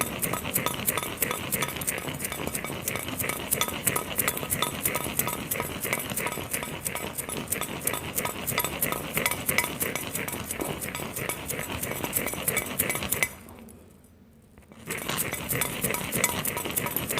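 Rapid, rhythmic scraping of a herb root rubbed against a hard grinding stone, continuous and close, pausing briefly before resuming.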